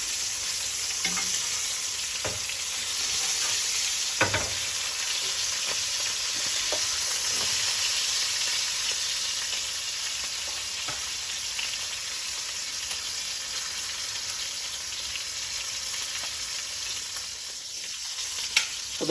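A steak sears in a pan with garlic and butter on top, a loud, steady close sizzle throughout, marked by occasional small taps and spatters and a brief scrape near the end.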